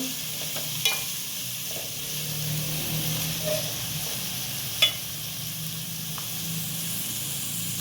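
Chayote for chitranna fries in a pan with a constant, close hiss and sizzle, dotted with a few soft stirring taps across the whole stretch.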